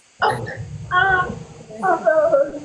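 A Corgi gives three close, high yipping barks with a whiny edge, each about half a second long and separated by short pauses.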